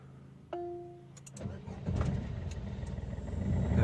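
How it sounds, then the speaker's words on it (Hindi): A car engine cranks and catches after a voice command to start it, settling into a steady low idle rumble that builds slightly, preceded by a short electronic chime; a voice is briefly heard. "देखिए गाड़ी स्टार्ट हो गई है,"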